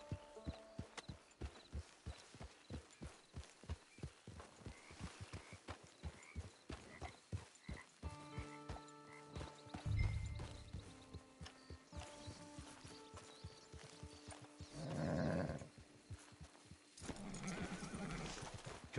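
Horse hooves clip-clopping at a steady walking rhythm in the Red Dead Redemption 2 video game, with a whinny and soft snorts partway through, set against quiet ambient game music.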